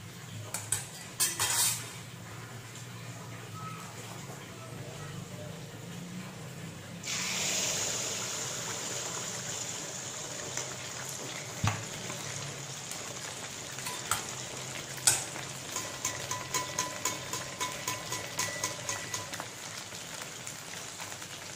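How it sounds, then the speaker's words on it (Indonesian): Rice-flour gemblong dough sizzles and crackles steadily in hot frying oil, with a burst of louder hiss as more dough goes in and repeated light clinks of a utensil against the pan. "Kita goreng lagi sampai adonannya habis."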